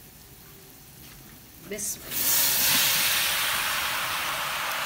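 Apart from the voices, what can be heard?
macaroni added to hot white sauce pan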